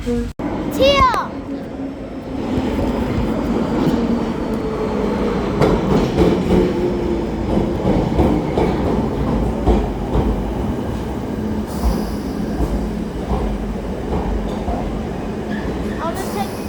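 London Underground Central Line train running, a steady loud rumble of wheels and motor filling the carriage throughout, with a brief high squeal near the start and a voice talking over it.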